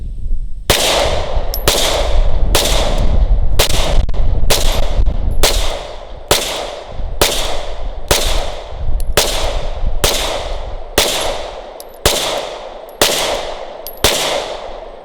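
A Glock 17 Gen 5 pistol fires about fifteen loud, sharp shots in a steady rhythm, roughly one per second, each crack ringing out briefly before the next, with no talking.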